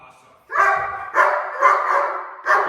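A German Shepherd barks loudly and close by on command, four deep barks with short gaps, after a brief quiet start.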